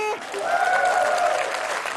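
Audience applause at an Indonesian idol-style talent show, a dense wash of clapping rising right after a sung note ends, with a voice carrying over the start.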